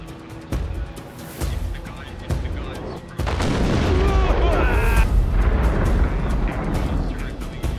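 Heavy booming air-support blasts in the video game Arma Reforger, loud and rolling, with a dense continuous rumble of explosions and gunfire building after a few scattered thuds.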